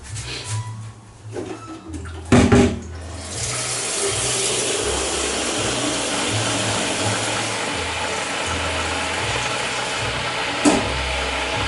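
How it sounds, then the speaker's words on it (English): Filtered water runs steadily from a kitchen tap for cooking rice, a constant close hiss lasting most of the clip after a few knocks and clatters at the start, with no talking. "Filtered water for the rice, people."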